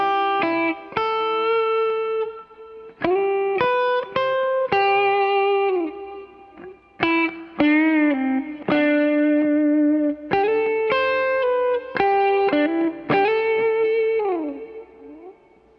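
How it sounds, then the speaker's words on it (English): Electric guitar played through a reverb pedal feeding a delay pedal, loud and alone: bright sustained chords and single notes with clear repeats and washy tails, plus a few bends and slides. "So running reverb into a delay"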